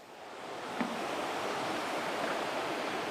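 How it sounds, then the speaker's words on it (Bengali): Ocean waves wash onto a beach at night in a steady, close roar of surf with a soft wind hiss, and no voices are heard. "শুধু ঢেউয়ের শব্দ কোনো মানুষ নাই"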